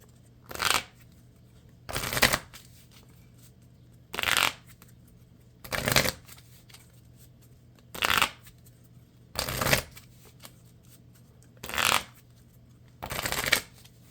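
Cards dealt from a deck in a Marvel Champions card game, eight or nine crisp sliding snaps at a steady pace of about one every one to two seconds, close and clear with no talk.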